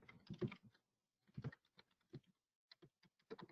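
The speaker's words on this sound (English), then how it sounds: "Typing is not one of my fortes" Keys clatter on a computer keyboard in short irregular bursts of clicks with brief pauses between, close and fairly quiet, with no talking.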